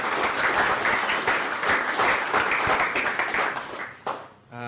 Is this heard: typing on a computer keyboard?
no